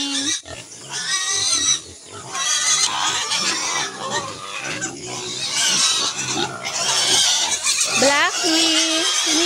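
A mother pig grunts and squeals loudly and repeatedly at close range, mixed with excited squeals from other pigs. A person speaks over the sounds.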